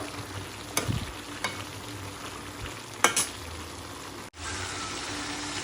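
Food fries in oil in a pan, with a steady close sizzle, a few louder clatters of stirring, and a brief cut near the end before the sizzling resumes.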